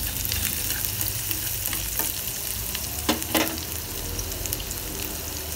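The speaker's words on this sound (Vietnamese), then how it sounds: "rồi xào tỏi với sả ớt rồi cho thơm lên" Garlic, lemongrass and chili stir-fry in a hot pan for a snail dish: a steady, close sizzle runs throughout, with a few sharper scrapes and clicks as the ingredients are stirred.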